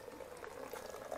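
Soft, continuous splashing and trickling from a small pump spraying water into a clear backyard pond stocked with fish, steady and faint.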